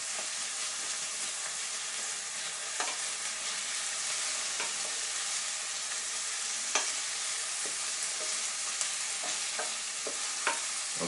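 Ackee and saltfish sizzling in a hot pan just lifted off the heat, a steady dense frying hiss with occasional soft clicks and scrapes as it is stirred, close up and with no voices.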